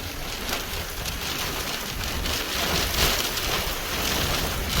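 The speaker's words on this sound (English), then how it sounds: "this storm I've been chasing for the last couple hours is just racing off to the north and east now" Heavy rain from a passing thunderstorm in South Dakota pours steadily, a dense continuous hiss of drops on surfaces, loud and close with no talk.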